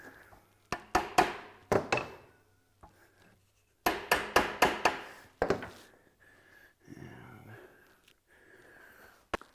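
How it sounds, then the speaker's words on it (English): A hammer taps a Harley Knucklehead axle into place with sharp metallic strikes in quick clusters, a few at first and then a faster burst of five or six, ringing briefly and close. "One last tap of the axle to get all the way through."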